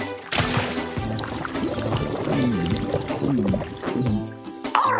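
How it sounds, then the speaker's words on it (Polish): Cartoon water being pumped out of a neighbour's garden: a continuous, loud gushing and pouring stream with bubbly, sloshing tones throughout. "Morfu, wypompuj tę wodę z ogródka naszego sąsiada."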